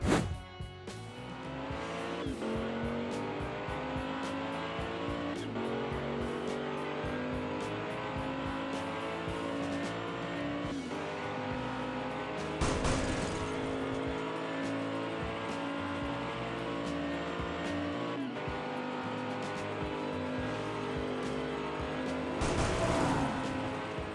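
Hot Wheels toy cars, including a pink Charger and a GT500 Mustang, race down a track in an elimination heat, giving a steady rolling rumble with a few sharp clatters and bumps along the way, no voices.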